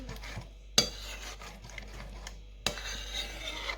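A spoon stirs porridge in a bowl, giving soft scraping and rubbing with two sharp clinks of the spoon against the bowl, quiet and close.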